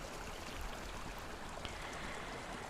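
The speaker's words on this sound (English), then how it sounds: "this water that we can hear comes from a beautiful waterfall from the mountain here in East Iceland" Water from a mountain waterfall in East Iceland rushes in a constant, even roar, a dense unbroken wash of noise with no voices.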